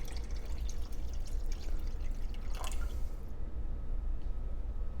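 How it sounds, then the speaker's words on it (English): Water is poured over dried beans in a pot for soaking, a continuous splashing, dripping pour close by that thins toward the end, with no one talking. "we're gonna cover this with water"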